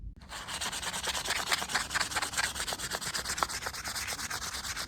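Sandpaper of 400 grit worked back and forth over a hand-forged kitchen knife handle, steady close rhythmic rasping strokes that keep going without pause.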